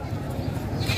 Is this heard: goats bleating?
yes